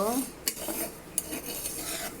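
Cumin seeds being dry-roasted and stirred in a pan, with a spoon scraping and clinking against the metal in two sharp knocks amid a soft continuous rustle, fairly close and with no talk.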